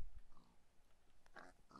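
A pig in the Minecraft video game grunts and oinks in a few short bursts, fairly close and clear with no talk over it.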